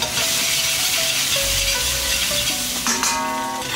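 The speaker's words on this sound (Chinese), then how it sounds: "下锅，下姜蒜米，爆出香味。" Ginger and garlic fry in hot oil in a wok for a Sichuan home-style dish, giving a loud, continuous sizzle with a few faint tonal sounds near the end.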